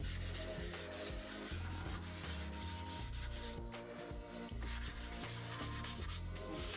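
Continuous rubbing and scraping of light sanding on pigmented laser-cut wood for an LED sign, steady back-and-forth strokes, close up, with a pulsing low hum underneath.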